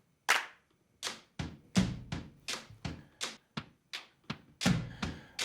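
Four layered takes of hand clapping stacked in a music mix make a fairly loud, irregular run of about a dozen sharp claps with short decays, heard alone without talk.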